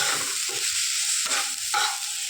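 Spice masala with Kashmiri chilli, coriander and cumin powder fries in a pan with a steady close sizzle. A few scraping stirs punctuate it, and there is no talking.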